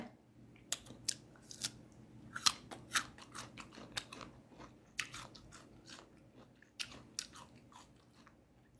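Crisp bites and chewing into a crunchy fresh peach, a quick run of sharp, close crunches spread irregularly through the clip with no talking.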